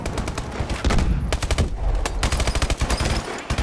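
Rapid bursts of automatic gunfire in Call of Duty: Advanced Warfare crackle in quick, uneven volleys, loud and close, with only short gaps between the strings of shots.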